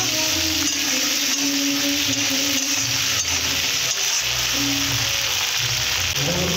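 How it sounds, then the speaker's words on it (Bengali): Chopped coriander, chopped tomato and peas frying in a pan, a loud continuous sizzle with stirring scrapes and shifting low bubbling, close up and without talk. "ধনেপাতা কুচি, টমেটো কুচি, মটরশুঁটি এইভাবে দিয়ে ভালো করে ভেজে নেব।"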